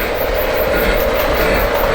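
Model train creeping slowly around a layout, giving a steady mechanical whir and faint rhythmic clicking that runs continuously and close by, with no voices.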